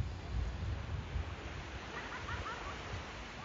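Ocean surf rolls onto a beach at São Miguel dos Milagres, Alagoas, a steady broadband wash with low rumble and wind, continuous and moderately loud with no talk.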